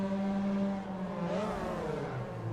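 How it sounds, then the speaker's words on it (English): Mazda MX5 Cup race car engine in a racing video game at Daytona Road Course, a buzzy tonal drone whose pitch dips and rises as it revs, steady and moderately loud throughout. "Like, listen to his engine."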